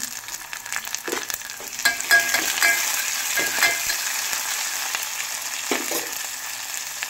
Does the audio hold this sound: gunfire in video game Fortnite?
no